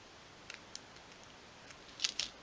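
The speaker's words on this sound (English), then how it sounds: "And then snip off the cord." A few sharp scissor snips cut through a cord on a 1/12th scale miniature sewing box, two isolated clicks early then a quick cluster of cuts near the end, close and crisp against a quiet background.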